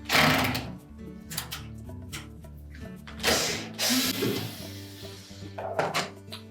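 A ratchet with a 12 mm socket works loose the bolts on a Whirlpool washer drain pump, giving bursts of quick mechanical clicking and clattering separated by short pauses, close and fairly loud.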